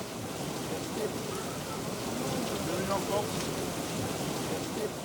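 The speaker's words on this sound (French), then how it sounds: "La pluie devenant vraiment forte" A dense, steady hiss of heavy rain falling on surfaces in Corsica, heard from shelter in a café, continuous and enveloping, with a faint murmur of voices beneath.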